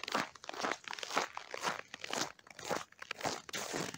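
Footsteps crunch through snow outside a sanatorium building, a steady close series of crisp, crackling squeaks with each stride, loud and alone with no talk.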